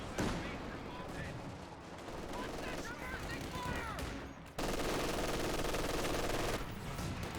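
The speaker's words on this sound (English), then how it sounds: "Mortar firing away, trying to hit something." Mortar fire in the game Company of Heroes 2, heard amid a steady wash of battle gunfire and explosions that jumps louder about midway, with commentary talk underneath.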